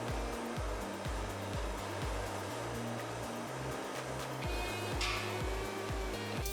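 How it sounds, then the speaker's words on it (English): Steel butt joint being torch brazed, a steady loud roaring hiss from the torch flame running continuously throughout, with a rhythmic low droning pulse underneath. "Here we're brazing a butt joint together."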